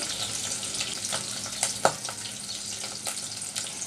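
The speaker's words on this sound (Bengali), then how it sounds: "আমি তেলের মধ্যে চিংড়ি শুটকিগুলো দিয়ে দিচ্ছি" Dried shrimp fry in hot oil, with a steady, close, crackling sizzle throughout and a few sharper pops and spatters scattered across it.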